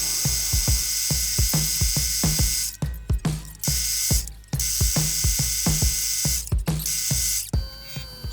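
A vise being ratcheted tight while setting up to drill the ivory handle of a 23-inch mosaic Damascus Bowie knife, with rapid repeated metallic clicks in bursts and short pauses over a whining machine hum.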